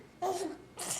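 A standing child sneezes twice, two sharp, fairly loud bursts close to the listener with a brief gap between them, with no other sounds around them.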